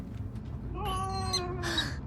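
In the Dread Neighbor video game, a cat meows twice, first drawn-out and then short, clear over a low steady background hum.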